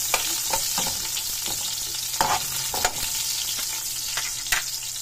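Onion sautéed in a pan with garlic, a continuous bright sizzle with repeated scraping stirs and spatula taps close by, no voices.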